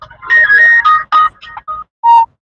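A phone plays a short electronic hold-music melody while a call waits for an answer, bright synthetic tones in a brief loud phrase, heard alone.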